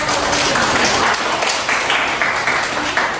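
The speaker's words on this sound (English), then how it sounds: "Please give applause to your friends." Classmates in a university classroom clap for their peers, a fairly loud, busy patter of many hands that holds steady without a break.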